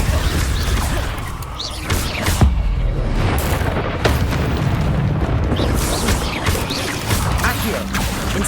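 A fiery Incendio spell blast in Hogwarts Legacy roars amid loud continuous rumbling, whooshes and crashing impacts, dense and close throughout, with a voice shouting over the chaos.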